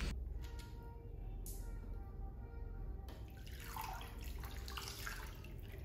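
Wet hair dipped into an apple cider vinegar rinse and squeezed by hand, giving soft, close, continuous watery sloshing and dripping that swells in the second half.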